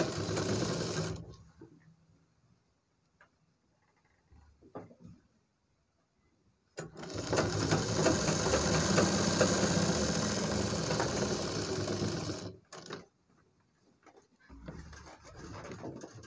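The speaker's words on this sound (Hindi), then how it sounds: "वहाँ पर ही हम वहीं से स्टार्ट करेंगे अपनी सिलाई" A sewing machine stitching piping on a trouser back pocket: a brief run at the start, a quiet gap with faint handling, then a long steady whirring run and a short final burst.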